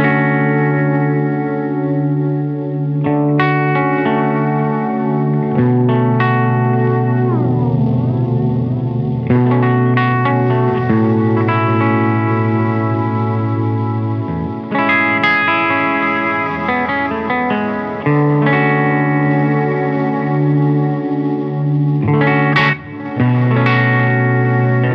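Guitar played through an LCO Industries Ours & Hours lo-fi reverb pedal, sustained chords smearing into washy, wobbling tails with chorus-like shimmer and grit, loud and alone, shifting between chords every few seconds.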